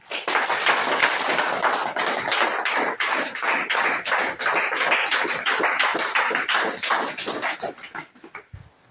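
Dense, loud applause from an audience at a Togolese ministerial gathering, sustained steady clapping for about eight seconds before it tapers off.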